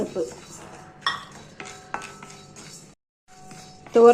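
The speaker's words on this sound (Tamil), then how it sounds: "பருப்பும் வறுபட்டுடுச்சு." Toor dal roasting in a pan and scraped with a metal spoon while making rasam powder, scattered clinks, scrapes and knocks with short pauses, close by and without talk.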